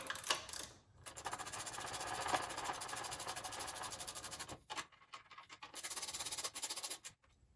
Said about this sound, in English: Put our 8mm bolts in, top and bottom. Go ahead and cinch them down too.